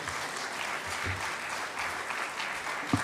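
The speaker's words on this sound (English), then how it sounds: "A warm clap for His Excellency" An audience at a UDA-ODM joint parliamentary group meeting at KICC in Nairobi applauds the Deputy President with continuous, dense clapping that holds steady for about three seconds.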